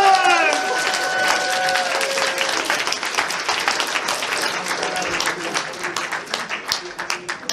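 A crowd at a furry convention charity event breaks into applause mixed with some cheering, with whistle-like tones at the start, then thinning into scattered individual claps toward the end.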